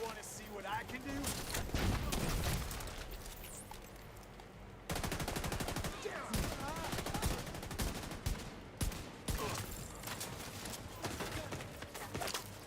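Gunfire in the video game The Division 2, rapid repeated shots and bursts running through the whole stretch over dense game noise, with voices in the mix.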